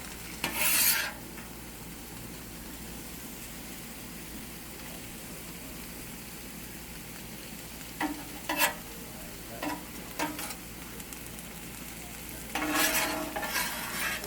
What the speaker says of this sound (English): then we will add the asparagus and the corn and get some nice color to those things